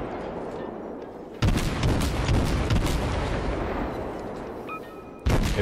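Naval guns firing from the Mahan, a tier 7 American destroyer in World of Warships, with two heavy booming salvos, the first trailing into a long rumbling decay and the second near the end, loud and with no talk over them.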